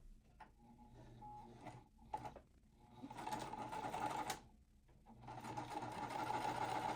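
A sewing machine stitches quilt pieces in steady running bursts, each lasting a second or two, with brief pauses between and a long continuous stretch near the end. It sounds close and fairly loud, and no one talks.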